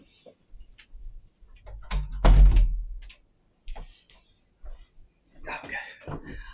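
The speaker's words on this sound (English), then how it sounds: "Let me close my door because I can hear something." A bedroom door is pushed shut with one loud thud near the middle, followed by a speaking voice and quieter room sounds.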